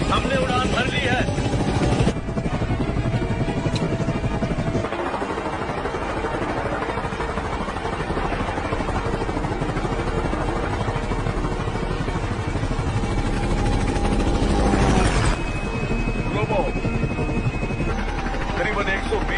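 A film aircraft's engine roars loudly and continuously just after takeoff, a dense, steady drone filling the scene, with voices speaking over it.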